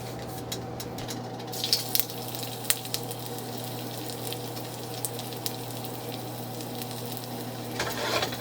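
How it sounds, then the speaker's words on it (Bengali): Onion, garlic and ginger sizzle in hot oil for pineapple fried rice, a steady, moderately quiet crackle with an electrical hum beneath and a few sharper pops and stirring scrapes. "এখন আমরা পেঁয়াজ, রসুন আর আদাটা আমরা দিয়ে দেব।"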